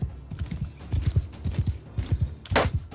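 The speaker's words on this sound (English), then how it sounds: "My horse almost died. My beautiful horse." Horse hooves galloping in Mount and Blade, a quick rhythmic clatter of thudding beats during a battle, with a sharp burst of noise near the end.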